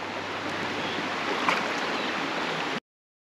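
Steady broadband rush of water flowing along a creek, continuous and fairly close with no voices, cutting off abruptly near the end.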